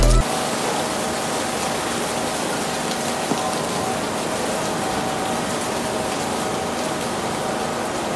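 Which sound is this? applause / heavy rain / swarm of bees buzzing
heavy rain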